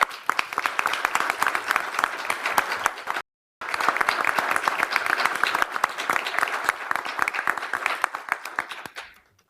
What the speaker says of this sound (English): So if we could have another round of applause for the Fire Bureau